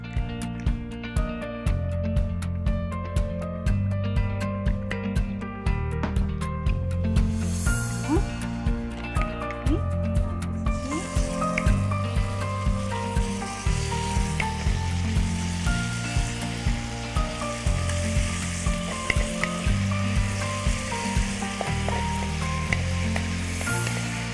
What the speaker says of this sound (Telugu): ప్యాన్లో కాస్త ఆయిల్ యాడ్ చేసుకుంటున్నాను.